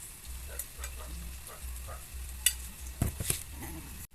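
Steady low bubbling and faint sizzling of banana balls frying in oil, with a few sharp clinks of a utensil against the pan near the end.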